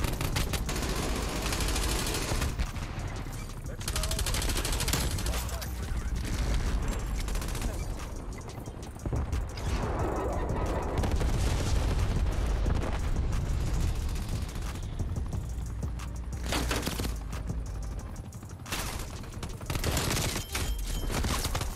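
Video-game gunfire from dual-wielded 1911 pistols with a rat tail class setup, dense and continuous shots throughout alongside loud game effects and music, with a voice talking at times.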